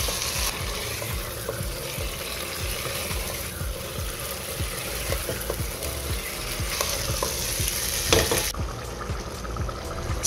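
Potatoes fry with spices and chicken in a pan in a home kitchen, giving a continuous, fairly loud sizzle. Rhythmic stirring scrapes run through it, with no talking.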